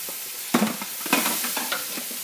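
Vegetables for a pasta sauce cooking in a pan, a bright crackling sizzle with several quick stirring scrapes, close and fairly loud throughout without any voices.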